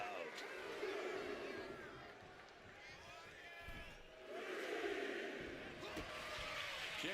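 An arena crowd in the wrestling video game WWE 2K26 roars and cheers through a match, swelling and fading, with a commentator talking over it.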